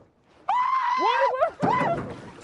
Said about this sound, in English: That sound, that scream